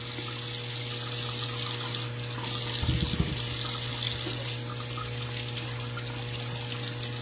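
Water runs steadily from a kitchen tap while pickles are washed under it, a constant close splashing hiss with a brief burst of clunking handling partway through, and no talking.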